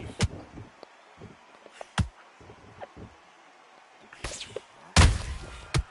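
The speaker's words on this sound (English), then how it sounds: "Nice counter punch right up the middle" Punches thud in Undisputed, a boxing video game: sharp impacts land irregularly, a few isolated hits, then a heavier cluster near the end, against a quieter background of game noise.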